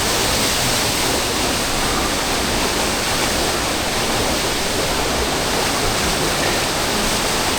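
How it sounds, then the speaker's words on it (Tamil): At Keralamkundu waterfall in Malappuram, water pours down in layers with a steady, dense, loud roar that fills the space without a break. "இது பார்த்தீங்கன்னா ஒரு மாதிரி லேயராக இந்த தண்ணி ஊற்றிக்கிட்டு இருக்கு"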